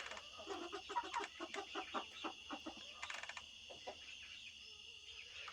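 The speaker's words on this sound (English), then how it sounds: "So all the new baby 7 chicks are up on the top shelf" Seven baby chicks crowd a top roost shelf in a chicken coop, their quick high peeps and soft clucks repeating in bursts at close range over a faint steady background hum.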